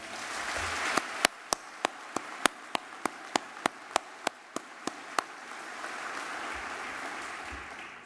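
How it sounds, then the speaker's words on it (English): Scattered, sharp individual claps from a small audience at an awards ceremony ring out in an uneven series for a few seconds over a steady hiss of room noise, then die away. "Would you give them another round of applause?"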